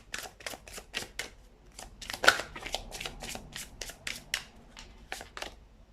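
Tarot cards being shuffled during a pick-a-card reading, a quick run of crisp riffling flutters and snaps repeating through the clip, close and fairly quiet with no talk.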